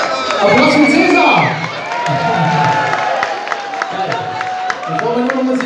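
A concert crowd in Oberhausen cheers, whoops and claps for the singer, a loud mass of shouting and applause with a sustained vocal tone and a voice speaking over it.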